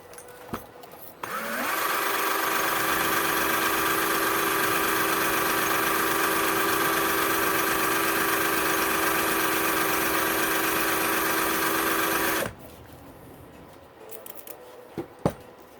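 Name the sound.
sanding YZ250 two-stroke cylinder head dome with 60 grit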